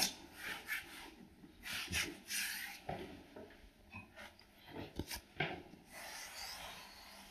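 Non-woven wallpaper is smoothed onto a ceiling with soft, faint brushing and rubbing strokes in an uneven rhythm, heard close and alone.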